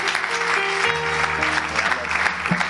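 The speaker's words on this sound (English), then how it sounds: "give the Lord a hand clap of praise" Church congregation clapping hands in praise at a Pentecostal Sunday morning service, a steady dense wash of applause with faint sustained tones and voices underneath.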